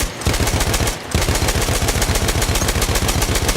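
A Perino Model 1908 light machine gun, tripod-mounted in Battlefield 1, fires long rapid sustained bursts, loud and close, with one brief pause near the start.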